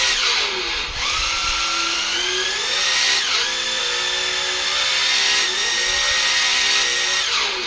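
The onboard sound system of a TRX-4 RC truck plays a simulated engine note. A continuous buzzy whine rises in pitch, drops as it shifts, and climbs again through the gears, loud and close.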